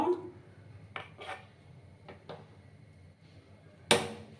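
A utensil stirs gourd payesh, a milky bottle-gourd pudding, in a pot, making a few quiet scrapes and rubs near the start and then a sharp metallic clank near the end, with near-silence between.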